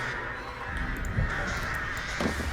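Crow caws from the Dead by Daylight horror game, a few short harsh calls over a steady droning in-game ambience, moderately loud with no voices.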